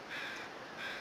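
Crows cawing in the survival video game The Long Dark, two harsh caws about a second apart, moderately distant over a windy outdoor background.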